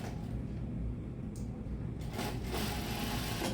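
A sewing machine edge stitching a shirt seam, a low steady motor whir and needle hum running continuously at a quiet, even level.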